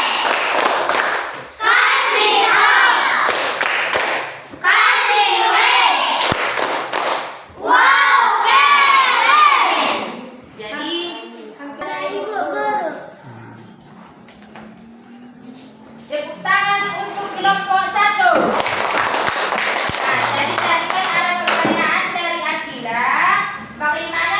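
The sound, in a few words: children clapping and shouting in a 'tepuk wow' clap chant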